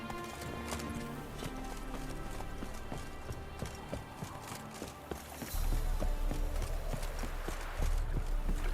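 Roach, Geralt's horse in The Witcher 3, gallops with steady, rapid clip-clop hoofbeats that stay close and loud throughout, growing heavier and louder in the final few seconds.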